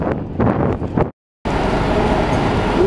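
Gentle wind blows along Broadway near Times Square in New York, a soft steady rush with street noise mixed in. It breaks off into silence for a moment, then resumes.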